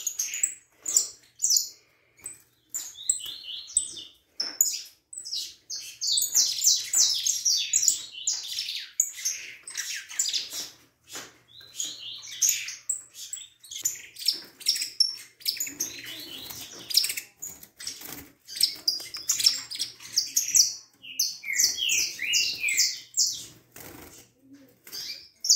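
A Peruvian saffron finch, or canário da terra, chirping in sharp, rapid high-pitched bursts with squawks and wing flutters, close and busy across the whole stretch.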